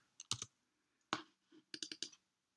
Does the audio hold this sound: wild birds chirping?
no